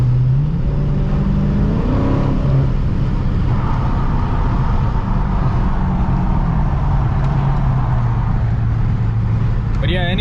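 A 2023 Dodge Challenger Scat Pack with mid muffler and rear resonator deleted rumbles loudly at close range, its exhaust droning and rising in pitch as it revs, with someone talking over it.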